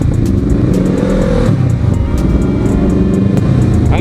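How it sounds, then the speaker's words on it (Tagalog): Loud, continuous engine roar of a mix of motorcycles, including single-cylinder bikes, revving up close at a charity ride, with a choppy, throbbing texture and no break. "Ang ingay talaga sa mga motor nila guys."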